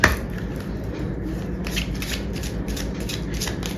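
A tarot deck is shuffled steadily and close by, with a continuous riffling, slapping texture of cards and no talking.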